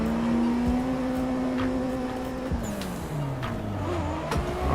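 A drift car in the Assetto Corsa racing game brakes hard mid-transition, engine tone dropping as the tires squeal and scrub for several seconds, loud and continuous with a brief shift partway through.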